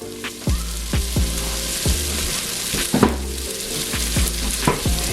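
Onions sautéing in a pan for a creamy Tuscan chicken dish, a steady close sizzle punctuated by repeated scraping stirs and clanks of a utensil against the pan, no talking.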